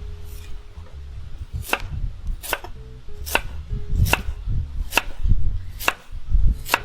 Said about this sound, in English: So let's slice up our carrots.